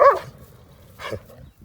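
Two short dog barks, loud and close, separated by a brief pause.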